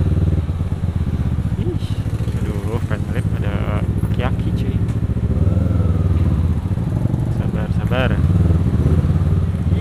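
A motorcycle rides along a road toward Bekasi, its engine rumbling steadily and close throughout while the rider talks over the noise.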